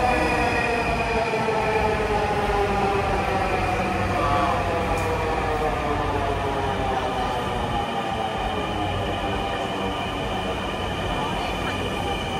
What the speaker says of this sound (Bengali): ওকে, ট্রেন আসতেছে, এই ট্রেন আমরা উঠবো